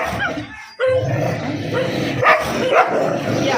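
Several dogs bark and scuffle in a fight, with sharp barks and yelps breaking through a busy, continuous background after a brief quiet gap near the start.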